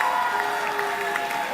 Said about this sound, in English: Please clap for her as she comes